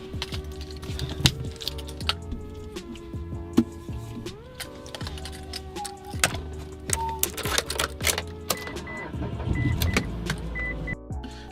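Car interior while driving a BMW 135i: a steady low engine and road rumble under frequent clicking, ticking and rattling sounds, with occasional whirring tones, close and continuous throughout.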